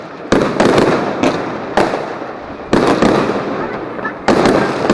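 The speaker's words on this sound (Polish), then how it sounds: "Ty, jakie fajerwerki!" Fireworks bursting on New Year's Eve in Szczecin, a string of loud, sharp booms and crackling blasts arriving in clusters every second or so, with faint voices in the background.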